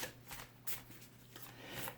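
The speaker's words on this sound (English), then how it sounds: "shuffling this new deck" A new deck of cards is shuffled in quick, close riffling bursts, faint and with no talking over them.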